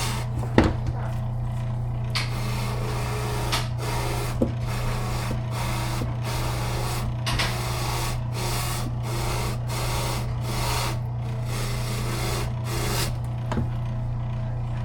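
A motorized fleshing wheel scrapes fat from a bird skin being prepared for taxidermy. A steady motor hum runs throughout, broken by a regular series of rasping scrapes about once a second, close by and with no voices.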